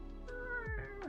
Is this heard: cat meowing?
yes